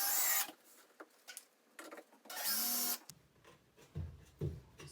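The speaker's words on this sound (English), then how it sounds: "just go ahead and drive some screws in to hold this in place" A drill drives screws into a wall cabinet in a laundry room, with two loud whirring bursts, the second one longer and straining, separated by quieter clunks and handling noise.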